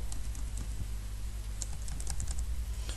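Keys clatter steadily as a website address is typed on a computer keyboard, a run of close, crisp clicks over a low steady hum with no talking.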